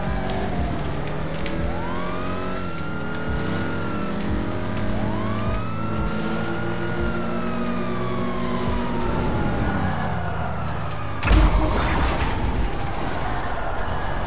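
Police car siren in a GTA RP game, wailing loudly and sweeping up and down over continuous engine and traffic noise, with a louder burst near the end.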